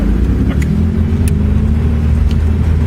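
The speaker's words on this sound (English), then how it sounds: "Driving down the road." A truck travels down a road with a steady, close engine rumble and low road noise that holds level for the whole stretch, with no voices.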